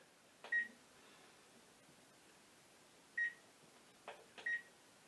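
Short electronic beeps from an oven timer being set for a half Bundt pan breakfast cake: three faint, spaced bursts of one or two quick tones over quiet kitchen room noise.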